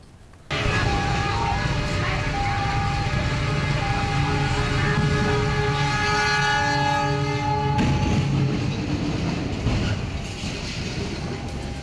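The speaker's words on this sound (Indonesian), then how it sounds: "sebuah truk trailer dihantam kereta api di perlintasan palang pintu kereta" A train sounds a long, loud, sustained horn at a level crossing on Jalan Kaligawe in Semarang, Central Java, as it strikes a trailer truck. The tone breaks off abruptly near the end, followed by rougher rumbling noise.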